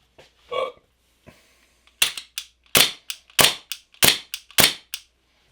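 Dry fire shots from a CoolFireTrainer laser trainer: seven sharp, snappy clicks at a steady rhythm, close and fairly loud, after a few softer handling noises.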